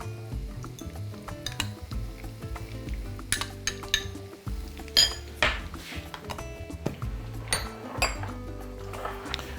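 A bowl is handled while buffalo yogurt sauce is prepared for beef ribs, with light clinks and knocks of dishware and cutlery, scattered taps close by in a quiet kitchen.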